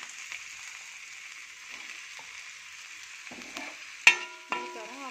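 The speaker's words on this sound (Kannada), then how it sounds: "ಈ ಥರ ಫ್ರೈ ಮಾಡಿದಲ್ಲ ಅದರಲ್ಲಿ ಫ್ರೈ ಮಾಡ್ಕೋಬೇಕು" Gobi manchurian frying in a pan, with a steady hiss of oil running throughout and a few sharp clinks and scrapes near the end.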